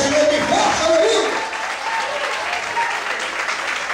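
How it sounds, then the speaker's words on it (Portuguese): Church congregation applauding loudly together during a Portuguese-language sermon, a dense burst of clapping that eases slightly after the first second and continues steadily. "Quem quer, bate palma e aplaude o Senhor bem forte, aleluia."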